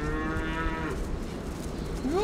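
Dairy cows on a farm moo in long, low, drawn-out calls, one near and loud, another starting at the end, over steady barn background.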